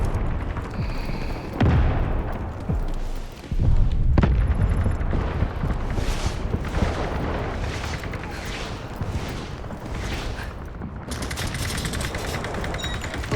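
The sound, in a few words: artillery barrage explosions in video game Delta Force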